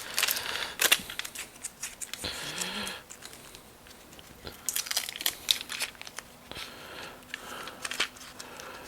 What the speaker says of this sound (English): So let's peel the masking off and see what it looks like.